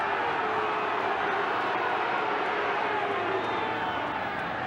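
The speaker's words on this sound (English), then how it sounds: "Crowd trying to let Eddie Ward know that the North Sydney backs are standing offside out wide" A rugby league crowd at a 1991 Penrith versus North Sydney match roars in steady protest over backs standing offside, a dense, continuous wall of massed voices heard from within the stadium.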